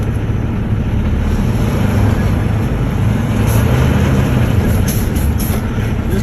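A truck shifted into drive rolls forward with a loud, steady low engine rumble and road noise that holds throughout, close to the listener.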